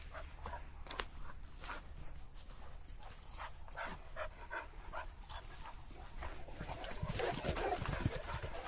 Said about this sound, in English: can you hear him come in there? It's like a horse coming past with Kongo.